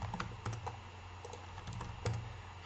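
Typing on a computer keyboard while filling in a Zoom meeting form: a steady run of quick, close key taps in irregular rhythm, with a few louder strokes, and no talking.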